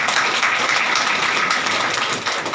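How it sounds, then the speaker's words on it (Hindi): Loud, dense applause from a seminar audience, steady close clapping throughout. "एक बार जोरदार तालियां बजा दीजिए अपने लिए"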